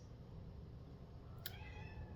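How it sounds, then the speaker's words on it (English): A cat wailing at a door cries once, a brief high cry rising over a steady low background rumble, fairly faint and not very close. "I have a cat wailing down the door trying to get in where I am"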